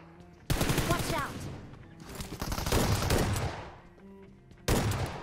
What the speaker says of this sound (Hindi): और ये दिए इसको बैक टू बैक शॉटगन के शॉट